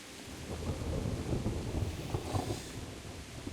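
Steady rain pours with deep rolling thunder in the Kingdom Come: Deliverance game world, a continuous hiss over low rumbles that swell midway and then ease.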